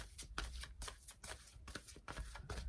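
A deck of tarot cards being shuffled close up, quiet rhythmic riffling bursts repeating several times without talk.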